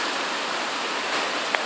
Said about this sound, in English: Wow, that heavy rain. Very heavy rain.